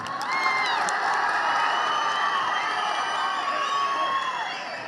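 A large rally crowd at a political birthday event cheers and whoops loudly, with shouting voices and whistles carrying over a continuous wash of clapping hands.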